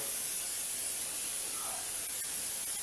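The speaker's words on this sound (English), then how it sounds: "now I'm going to spray" A steady close hiss of cooking spray onto parchment paper runs continuously throughout, loud and unbroken, with faint rustling underneath.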